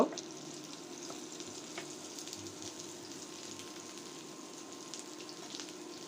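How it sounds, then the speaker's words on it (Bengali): Dried fish frying in a little oil gives a soft, steady crackling sizzle with a few faint scrapes as the pieces are turned over, quiet and continuous, with no one talking. "উল্টিয়ে পাল্টিয়ে আবারও শুটকিগুলো একটু ভেজে নিচ্ছি"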